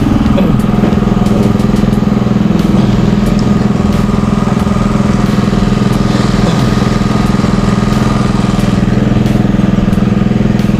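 A small water pump engine runs steadily and loudly throughout, a constant droning hum with a mechanical rattle, no talking.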